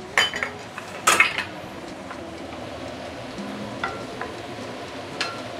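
Raw garlic stirred into luffa and eggs in a frying pan, with a few sharp utensil scrapes and clanks against the pan over a soft low sizzle, no talking.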